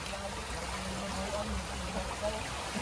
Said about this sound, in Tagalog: Lakas ng agos.